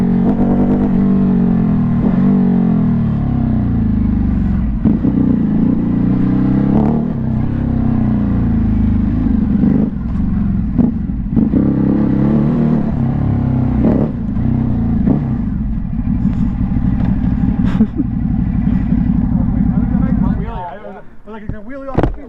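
A Ducati Hypermotard 950 SP motorcycle engine drones and swells through shifting revs while riding, loud and steady under heavy wind noise, with the engine note dropping away near the end; people talk over it throughout.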